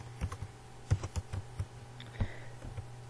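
Typing on a computer keyboard while writing HTML code, a handful of separate key presses in an uneven rhythm, close and fairly quiet, with no voice.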